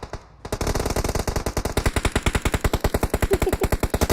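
Sustained machine-gun fire from a video game, a brief pause at the start and then a loud, relentless stream of rapid evenly spaced shots that carries straight through to the end.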